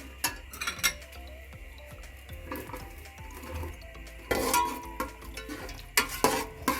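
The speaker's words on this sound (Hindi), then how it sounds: "हमने लाइट ब्राउन होने तक प्याज को सुरख करना है।" Onions frying in oil over low heat in a pan with whole spices like black pepper, cloves and cumin, a steady sizzle with occasional stirring clatter and louder bursts near the end, no talk.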